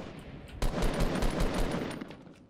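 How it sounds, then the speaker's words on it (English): Assault rifle fire in the Fortnite video game, a dense burst of rapid automatic shots that starts abruptly and rattles on loudly for about two seconds before tapering off. "I only have 7 shots with the AR left."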